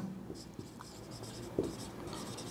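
Pen scratching on paper while notes are taken during a science lesson on cell organelles: quiet, irregular writing strokes close by, with a few sharper taps.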